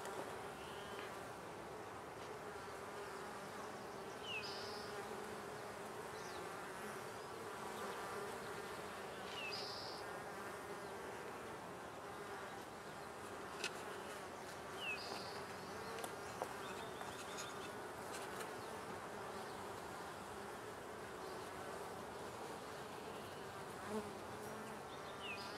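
A small caught honeybee swarm settled in a hive box hums in a steady, dense buzz throughout, quiet and close, with occasional individual bees droning past and faint bird calls in the background.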